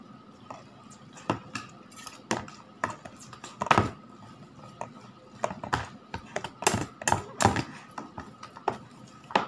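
Metal utensil clanking and scraping against a pan as chili seeds are stirred, irregular sharp knocks and clatters close up, with faint background voice.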